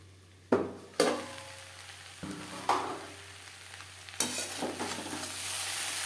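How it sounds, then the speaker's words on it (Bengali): Cauliflower frying in a pan on low to medium gas is stirred in a few distinct scraping bursts, with a steady sizzle running underneath throughout. "এর মাঝে আমি 1-2 বার নাড়াচাড়া করে দিয়েছিলাম"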